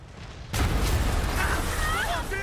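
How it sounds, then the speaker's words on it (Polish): A sudden loud explosion bursts out in Marvel's Spider-Man Remastered, followed by a sustained roaring rumble of debris and game sound effects. "No to Willy chyba postanowił nawiać z hukiem"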